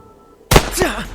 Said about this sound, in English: Sounds like a gunshot. Or multiple gunshots.